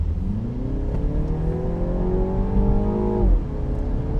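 An F56 Mini Cooper S accelerates hard, its engine note climbing steadily. The pitch drops abruptly at a gear shift, then the engine pulls on from inside the cabin.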